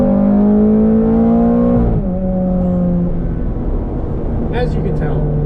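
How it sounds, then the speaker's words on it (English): A Ferrari F430 Spider's V8 engine revving, a loud close rising whine that drops and settles into a rough, throaty idle. "this is the most glorious sounding V8"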